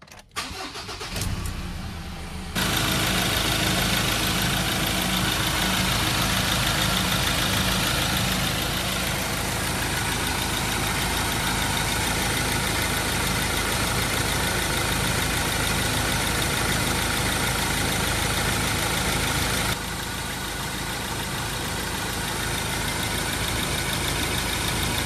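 A Ford Ranger engine cranks briefly and fires, then settles into a steady, loud idle that runs on without pause, with no talking over it.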